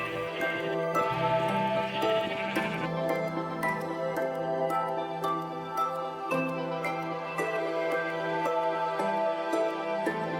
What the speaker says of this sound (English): Oh, and I've started a small sheep pen.